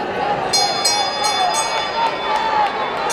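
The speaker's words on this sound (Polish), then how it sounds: "Dzwonek." A bell clangs repeatedly in quick, bright strokes to signal the final lap of a men's 2000 m race at a stadium meet, ringing over an announcer's voice and crowd noise.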